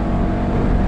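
Audi TT RS Roadster engine growling, a steady low rumble with a dense, rough tone held at a constant level, close and loud with no variation in pitch across the short stretch.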